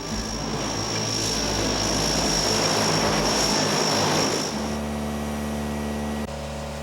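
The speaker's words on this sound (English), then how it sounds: "Inky made a strenuous 4-hour flight to Florida on a Navy cargo plane" A Navy cargo plane in flight drones loudly with a steady propeller and engine roar, heard continuously from inside or close by, its tone shifting partway through to a lower, more tonal hum.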